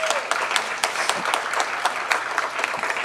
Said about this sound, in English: So let's do another round of applause.